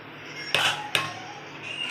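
Two sharp metallic clanks of a ladle against a pot as cooked mutton biryani rice is turned over, close and distinct against a quiet background hiss.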